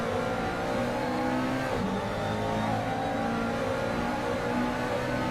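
GT3 race cars, a McLaren and a Ferrari, circulate at Mugello in Assetto Corsa, engines droning loud and steady with layered revving and a shift in pitch midway, no voices.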